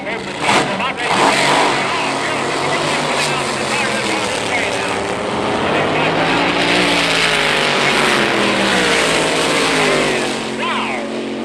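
Loud, roaring drag racing cars launching at a 1963 drag strip fill the whole stretch with a dense, sustained blast of racing noise, close and powerful throughout.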